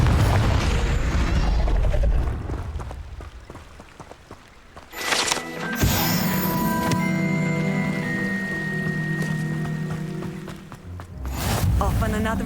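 A Confringo blasting curse in Hogwarts Legacy goes off as a deep, rumbling explosion that fades, followed by ringing, sustained tones and more effects, with a voice speaking over parts of it.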